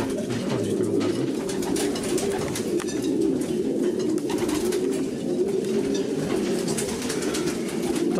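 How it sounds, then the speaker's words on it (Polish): A racing pigeon entering its loft after a flight from Vetschau, with steady low cooing from several pigeons filling the background at close range. "A tu następny gołąb wchodzi."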